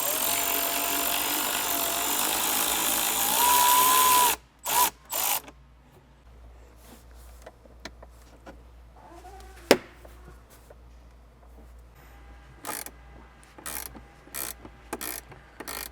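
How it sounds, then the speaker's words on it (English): A ratchet on a 10mm bolt clicks in short irregular bursts while a console panel is fastened down in a Toyota 4Runner, close and crisp after a loud steady noise at the start. "we're going to tighten it down so that it's crimped in place"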